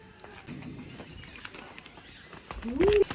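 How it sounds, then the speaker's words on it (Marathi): Water birds at an aviary in a safari park give one short, rising call near the end, over quiet outdoor background with faint rustles. "इथे पक्षी बघायला मिळेल पाण पक्षी"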